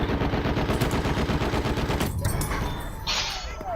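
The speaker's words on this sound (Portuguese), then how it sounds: "Nem tô vendo o cara, mas tô atirando" Rapid automatic gunfire in Battlefield 1 in the Argonne Forest, a dense close burst of shots for about two seconds that breaks off, leaving quieter game ambience and a faint sharp tone.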